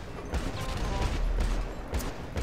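Machine gun fire from armed cars in GTA V, a dense continuous rattle of shots with low booms underneath, loud and steady across the whole stretch.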